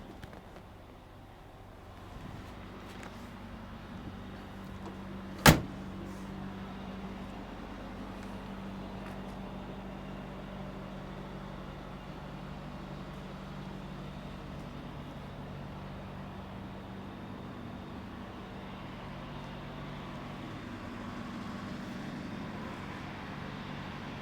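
A black 1959 Chevrolet Impala with a 348 Tri Power V8 idling steadily, a low continuous rumble that holds level throughout, broken once by a single sharp click partway in.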